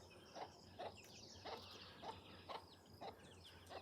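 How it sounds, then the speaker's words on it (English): A mother hen clucks to her chicks in a garden, soft short clucks repeating at an even pace about twice a second, faint and somewhat distant over steady background noise. "You can hear that mother chicken. She's talking to the babies, telling them to do something. That's her way of clucking."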